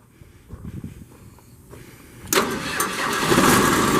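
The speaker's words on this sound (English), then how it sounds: "There's your Perkins coming to life." A Perkins diesel engine on a 2006 Dynamic DC-55 disc wood chipper cranks and fires up, starting from a low rumble and then catching into a loud, steady, broadband roar that holds to the end.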